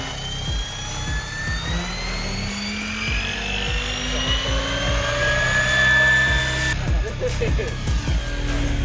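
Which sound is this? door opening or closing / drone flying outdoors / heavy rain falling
drone flying outdoors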